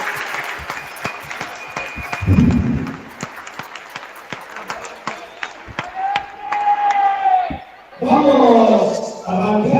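An audience at a school event gives scattered applause with claps and crowd noise, mixed with talk and some louder bursts toward the end.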